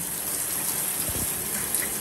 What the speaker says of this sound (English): I'm gonna turn the shower on and get this all rinsed out